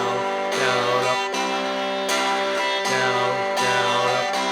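A Loog guitar is strummed in a steady down, down, up pattern, its chords ringing clearly and continuously with regular rhythmic accents and no singing or talk.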